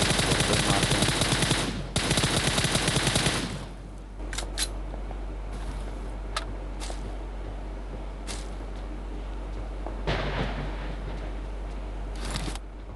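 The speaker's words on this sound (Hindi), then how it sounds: "गाइस जैसा कि आप सुन ही रहे होंगे कि गाइस उस साइड से आती है फायरिंग" Automatic gunfire in a battle royale video game, a dense burst for a few seconds followed by scattered single shots and short volleys, some near and some distant.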